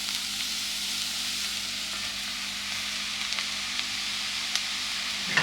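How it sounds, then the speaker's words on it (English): Chopped cabbage added to a pot with tomato paste for Greek lahanorizo, giving a steady, even sizzle throughout with a few faint ticks and a small pop near the end, close and without voices. "we're going to add some chopped cabbage"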